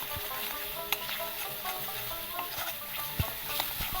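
Spices frying gently in oil over low heat for ghugni, a steady hiss of sizzling with a few small pops and light stirring scrapes, close by.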